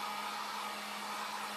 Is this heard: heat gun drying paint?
yes